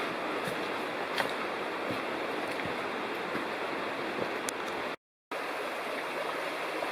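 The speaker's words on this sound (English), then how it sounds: "You can hear the river roaring off to the right." Bald River rushes in a steady, broadband roar heard from the trail near Holly Flats Campground in a wilderness gorge, continuous and moderately distant, with a brief dropout near the end.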